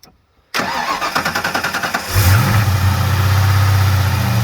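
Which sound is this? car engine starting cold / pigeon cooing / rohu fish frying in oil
car engine starting cold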